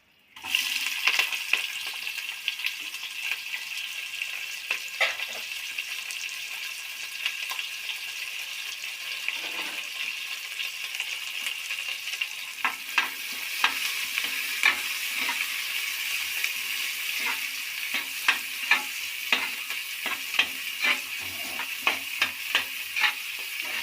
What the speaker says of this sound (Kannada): ಇದು ಒಗ್ಗರಣೆಗೆ ತೋರಿಸಿದ್ನಲ್ಲ ಈರುಳ್ಳಿ ಇದೆಲ್ಲನೂ ಒಗ್ಗರಣೆಗೆ ಸೇರಿಸ್ತೀನಿ